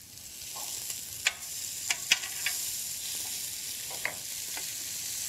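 Beef burgers fry in a hot oiled pan with a steady, close sizzle, and a few sharp pops and spits rise above it.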